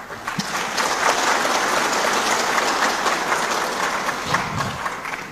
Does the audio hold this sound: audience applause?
yes